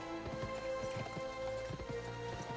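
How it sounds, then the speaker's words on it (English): Horse galloping in the western video game Gun: a steady, rapid clip-clop of hooves over a continuous hum of game music and ambience, at moderate volume. "I always thought this was funny how the horse ran"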